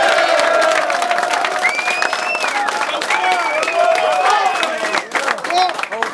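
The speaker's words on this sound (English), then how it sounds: "let's give a round of applause for these assistant coaches." Football players in a Georgia State locker room cheer and applaud their assistant coaches, a loud, continuous crowd of shouting, whoops and clapping lasting several seconds, with voices yelling over the clapping throughout.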